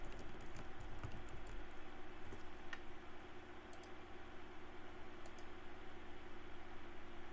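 Quiet keystrokes on a computer keyboard as a material name is typed, with a few soft clicks scattered over a steady low room hum, no voices.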